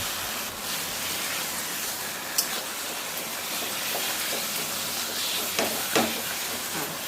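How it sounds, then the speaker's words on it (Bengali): Taro leaves being stirred and dried in a hot pan produce a continuous broad hiss of sizzling, with a few faint clicks and scrapes from stirring. "এইভাবে কচু শাকটা আমি নেড়ে নেড়ে শুকিয়ে নেব।"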